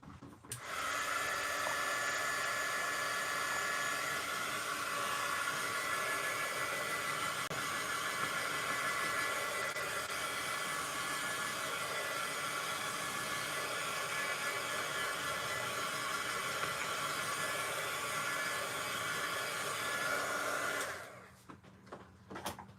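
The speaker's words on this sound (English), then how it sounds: "I'm gonna quick dry this just a little bit with my heat tool" A heat tool blows steadily to dry acrylic paint, giving a continuous, loud, even whir for about twenty seconds that then cuts off.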